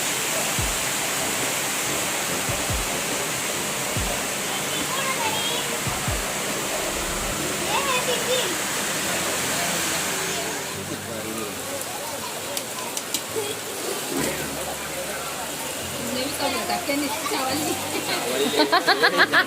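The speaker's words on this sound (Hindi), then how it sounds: "बारिश देखिए कितनी ज़्यादा हो रही है" Heavy rain pours down in a dense, steady hiss that holds loud for most of the stretch and then thins somewhat, with a voice speaking intermittently over it and a few sharp knocks near the start.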